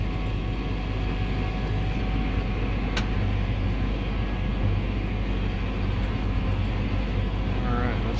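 A Massey Ferguson tractor steering itself on Topcon AutoGuide 3000 GPS drones steadily across a vacant area, a constant low engine hum heard from inside the cab, with someone talking over it and a brief click midway.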